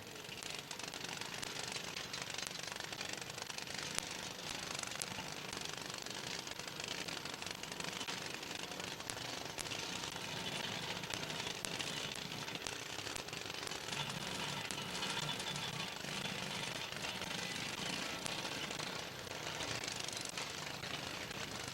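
Racing lawnmower engines roar at a lawnmower destruction derby at Midvale Speedway, a dense, continuous rattling clatter of small engines and impacts that stays loud and steady throughout with no speech.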